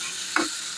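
A pan of dal gravy with turmeric and salt is stirred and fried, giving a soft steady sizzle with a single light scrape or clink of the spoon partway through.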